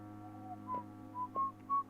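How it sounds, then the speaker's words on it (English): A cartoon character, Simon, whistles a short tune in a kitchen to distract his cats, several clear rising notes in separate bursts over a steady low hum. "Simon starts to whistle to distract his cats."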